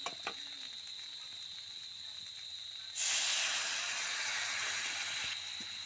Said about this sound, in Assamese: এতিয়া আমি ইয়াতে এড কৰিম পানী।